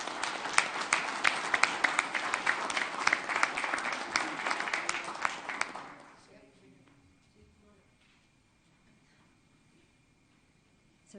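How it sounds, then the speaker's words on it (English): A crowd at a city council meeting in Amarillo, Texas claps in steady applause for about six seconds, then it fades into quiet room tone. "You guys give a big round of applause to the Bridge"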